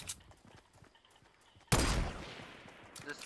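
Sudden burst of gunfire in Fortnite Battle Royale cuts through quiet background, a loud crackling volley that trails off into scattered shots and rattles over the last second.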